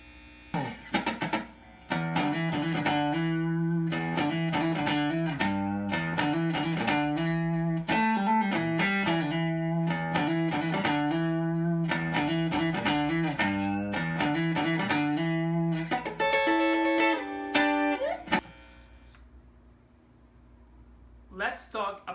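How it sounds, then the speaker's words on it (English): Electric guitar plays the main riff of a song with heavy wah-wah distortion. It is a loud, sustained, repeating figure that cuts off near the end, leaving a quiet tail. "the main riff of the song, that crazy wah-wah distortion action"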